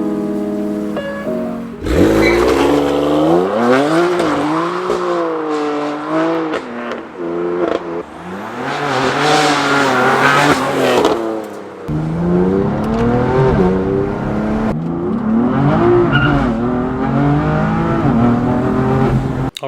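A BMW M4 GTS fitted with a new CSF charge cooler, driven on the road, its engine revving up and down through repeated accelerations and gear changes, loud and close throughout with no talk.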